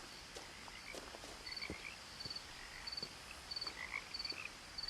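Frogs croak in a video game nighttime outdoor scene, a regular series of short raspy pulses repeating roughly every half second over a faint hiss of insects and ambience, with no talking.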